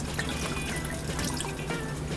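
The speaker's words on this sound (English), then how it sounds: "And then we're gonna add cold water." Cold water running steadily into a cooking pot from a kitchen tap, a continuous close splashing wash with no talk over it.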